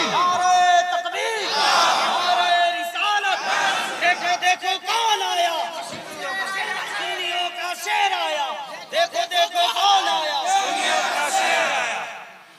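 A large crowd at a religious gathering chants loudly in unison in reply to the Nara-e-Takbeer call, with repeated roaring shouts rising and falling in waves close by.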